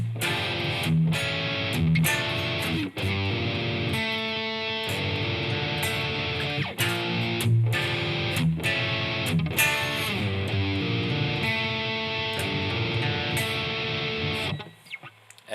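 Distorted electric guitar playing a Hail The Sun riff from "Rolling Out The Red Carpet", with dense, loud chordal runs that continue steadily for about fifteen seconds before stopping abruptly at the end.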